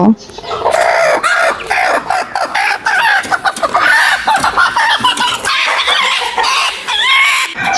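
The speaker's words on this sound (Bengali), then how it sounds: "এইখানে দেখতেছেন আমি মুরগিটাকে দরে নিয়ে কুচে বসিয়ে দেব" Hens and a rooster of Australorp and local Bangladeshi breeds cluck and call loudly and continuously at close range during a brooding setup, with a few crowing notes mixed in.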